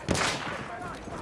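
Burst of gunfire in the video game Battlefield 1, a sharp crack followed by a short rumbling tail, heard alone.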